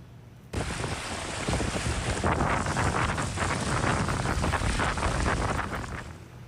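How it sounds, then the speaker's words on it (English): Strong wind and choppy waves on Holmes Lake, with loud gusts buffeting the microphone over the rush of water lapping the shore, constant after a sudden start, and no speech. "Tanya giving us a good idea of just how windy it has been. She sent in this video. Pretty decent waves out there at Holmes Lake."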